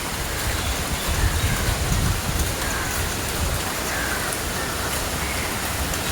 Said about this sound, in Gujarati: એક નંબર વરસાદ ચાલુ થઈ ગયો છે.